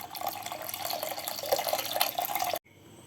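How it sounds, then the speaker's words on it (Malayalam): Tamarind water pours steadily into a pot of green pigeon pea curry, a continuous close splashing trickle that stops abruptly near the end. "അപ്പം നമുക്കിനി പുളി വെള്ളം ഒഴിക്കാം"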